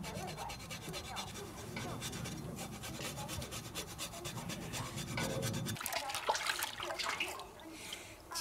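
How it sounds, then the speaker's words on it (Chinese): Scalded pork skin is scraped clean in close, continuous rasping strokes that turn brighter and harsher toward the end, with no talking. "皮烫好了，把这个刮干净"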